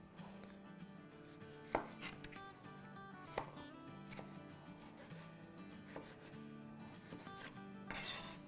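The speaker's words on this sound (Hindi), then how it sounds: "जब तक हम अपने टमाटो के छोटे छोटे पीस कर लेते हैं" Tomatoes are chopped into small pieces on a board with a knife, the blade tapping in irregular, fairly quiet strokes over a low, steady background of something sautéing.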